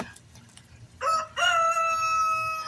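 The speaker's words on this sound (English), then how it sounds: "Y'all don't mind my rooster." A rooster lets out a loud, close cock-a-doodle-doo, starting with a short rising note and stretching into a long held crow that carries to the end.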